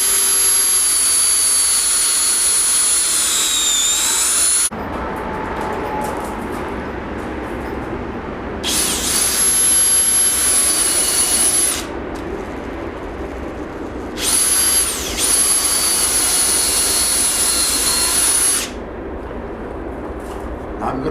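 A power drill drilling into wood during a truck camper build, whining loudly in three long bursts of several seconds each, with quieter shop noise between them.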